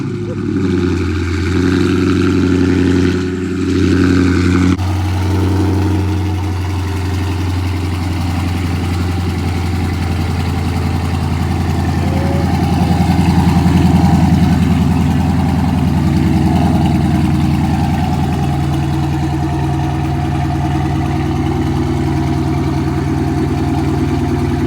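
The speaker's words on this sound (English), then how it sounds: "let me get y'all this cold start right quick" A Dodge Charger Scat Pack engine idles steadily after a cold start on a chilly day, a loud, continuous low rumble that persists throughout with only slight variation.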